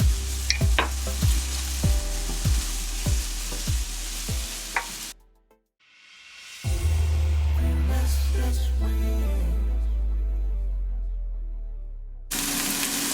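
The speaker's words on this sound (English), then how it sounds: "introduce my peas and carrots to the bowl. Let that fry for a little bit." Peas and carrots fry in a bowl-shaped pan for pineapple shrimp fried rice, first stirred with rhythmic scraping knocks, then a loud, steady sizzle after a short break.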